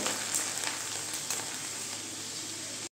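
Chana dal frying in hot oil for a Bengali snack makes a steady, soft hiss of bubbling oil close by, with no voices.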